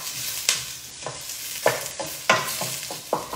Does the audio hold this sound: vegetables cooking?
yes